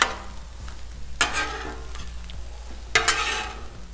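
Eggs and smoked sausage frying on a Blackstone griddle, a steady low sizzle throughout with two louder bursts of scraping and stirring from a spatula, close by and without talk.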